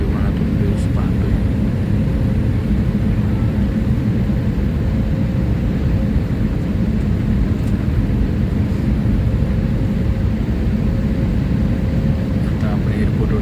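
Steady loud roar of an airliner cabin in flight between Pune and Ahmedabad, a constant low drone with a faint thin whine above it, unchanging throughout.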